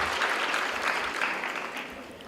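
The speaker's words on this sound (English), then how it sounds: "Can you wave, clap your hands?" Graduates at a May 2022 university graduation ceremony in Butterworth clap their hands, a dense steady patter of many hands lasting a couple of seconds and gradually thinning out.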